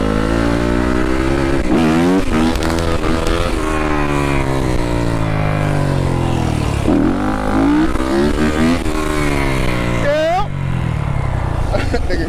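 A dirt bike engine runs loud and close throughout, its pitch rising and falling as the rider works the throttle, with a drunk woman passenger aboard and voices talking over the motor.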